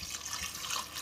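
Water runs and splashes briefly into a mixer grinder jar while fish curry is being made, a short, faint trickling pour heard alone.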